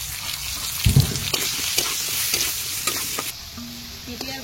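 Papaya and carrot pieces fry in a pan for shukto, a steady close sizzle broken by scraping stirs and clinks of a spatula, with no talking.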